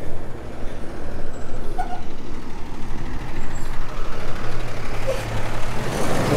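A vehicle rolls through stop-and-go traffic in Coats, North Carolina, with a loud, continuous engine and road rumble broken by two short, faint brake squeaks; no one speaks.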